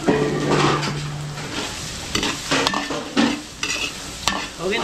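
Garlic and onion sautéing in a restaurant kitchen pan, with frying sizzle under repeated stirring scrapes and occasional utensil clinks, close and fairly loud.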